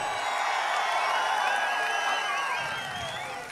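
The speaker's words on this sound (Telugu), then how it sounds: "గట్టిగా చప్పట్లు కూడా చెప్పండి" A crowd at a political election rally in Andhra Pradesh claps and cheers loudly, with shrill whistles streaking through the dense, steady roar for the whole stretch.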